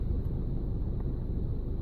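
Wind gusting outdoors beside a parked car, buffeting the microphone with a steady low rumble throughout, loud and continuous with no talk.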